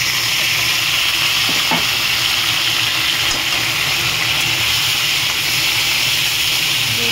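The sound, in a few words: frying tomatoes, ginger and green chillies in a pan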